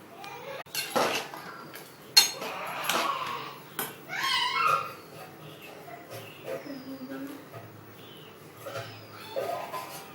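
A spoon clinks and scrapes against a pot while sugar is stirred into boiled raw mango for jelly, in a run of short, close metallic knocks with quieter gaps and a voice now and then.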